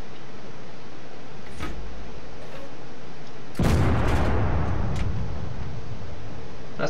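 A tank cannon fires in World of Tanks: one sudden loud boom breaks in partway through, followed by a dense rumbling tail of blast and debris noise that lingers to the end.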